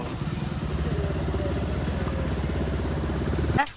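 Motorcycle engine running steadily on a road trip from Chennai to Andhra: a close, loud, even rumbling idle with rapid regular pulsing that stops abruptly near the end.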